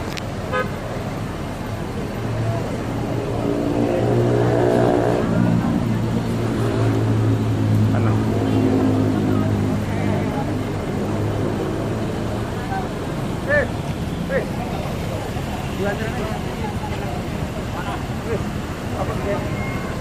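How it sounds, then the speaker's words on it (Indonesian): The busy Pondok Pinang Lebak Bulus bus terminal, with idling bus engines, passing vehicles and a long horn-like toot, while people talk nearby throughout. "Inilah keadaan terminal Pondok Pinang Lebak Bulus"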